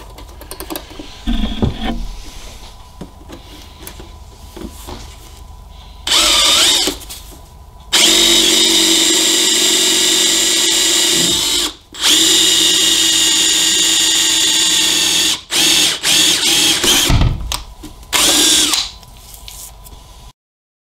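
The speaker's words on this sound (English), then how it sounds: "we're going to take a drill and a 3/8 inch drill bit and drill a hole" Electric drill fitted with a 3/8 inch bit bores holes for a Harley-Davidson speaker lid install. Several loud, sustained whirring bursts of a few seconds each are separated by short pauses, with quieter clicks and handling noise in the gaps.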